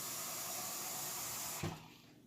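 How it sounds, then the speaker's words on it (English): Tap water runs steadily into a quart glass jar, a constant hissing pour that cuts off with a short knock near the end, fairly quiet with no talking. "This is a quart jar, so just put it underneath the K. And just insert some water."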